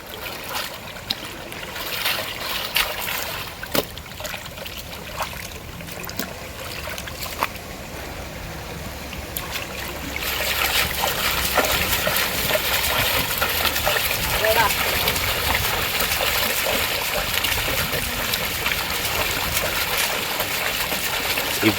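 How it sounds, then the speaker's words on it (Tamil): Fish rinsed by hand in Kaveri river water at a riverside spot, with continuous splashing and sloshing that grows fuller and louder halfway through, under occasional talk. "அப்படியே ஆற்று தண்ணியிலையே சூப்பராக அலசி க்ளீன் பண்ணி கொடுப்பாங்க தலைவா"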